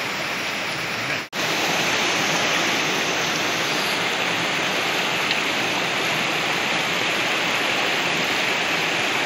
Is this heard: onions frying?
no